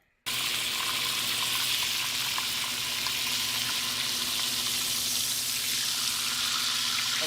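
Burger patties sear in a hot pan, a loud, steady hissing sizzle that runs unbroken from start to finish, close up with no talking.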